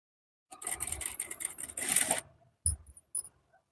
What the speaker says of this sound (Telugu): ఇదిగోండి, ఈ విధంగా స్టిచ్ చేసుకోవాలి